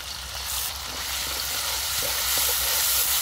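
Spice paste of onion, garlic, ginger and cumin fries in hot soybean oil with a loud, continuous, close hissing sizzle that holds steady throughout.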